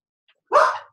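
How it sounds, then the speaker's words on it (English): A dog lets out a single loud, close bark as a car pulls into the driveway, one short burst standing alone in an otherwise quiet room. "my dog is about to go nuts because somebody just pulled in"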